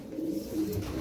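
A racing pigeon gives a soft, low rolling coo, one short close call with no other sounds around it.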